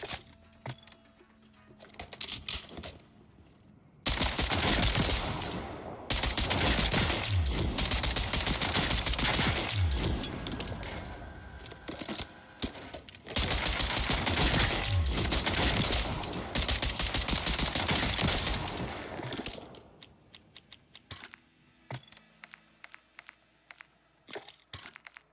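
SO14 battle rifle gunfire in Call of Duty Warzone comes as long, loud, dense bursts of shots with short gaps between them. Sparse, fainter clicks and pops fill the quieter stretches at the start and end.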